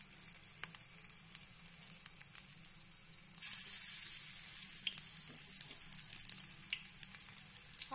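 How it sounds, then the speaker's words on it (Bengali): Shiuli flower fritters hiss steadily in hot oil, a dense continuous sizzle that grows louder and brighter partway through as more batter goes into the pan, with no talking. "তেল গরম হয়ে গেছে, এবার একে একে ফুলটা দিয়ে দেবো বড় আকারে গোল গোল করে।"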